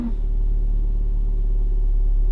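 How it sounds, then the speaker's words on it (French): A Renault Clio TCe petrol engine fitted with an E85 ethanol kit starts up and settles into a steady, loud low idle rumble, close up and without talk. "on se retrouve à l'intérieur du véhicule pour effectuer le premier démarrage."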